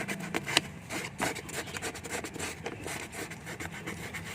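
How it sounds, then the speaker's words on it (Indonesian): Steady rhythmic rasping of sandpaper rubbed back and forth over a tarpaulin fish pond liner to remove moss residue, close and continuous for a few seconds. "Proses pertamanya kita amplas dulu ya,"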